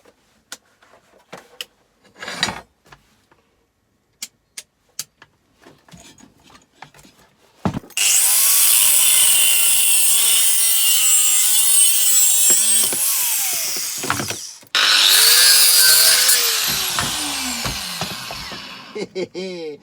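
After a few scattered clicks and knocks, a power tool screams loudly while cutting through a metal small-engine part, pausing briefly before a second long, whining cut.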